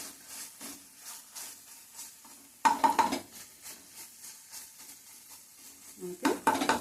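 Masala spices frying and being stirred in a pan while making akakarakaya (spiny gourd) curry, with a soft sizzle, scraping strokes of a spoon and occasional clinks of metal against the pan, fairly close and moderately quiet.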